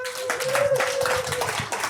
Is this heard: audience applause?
yes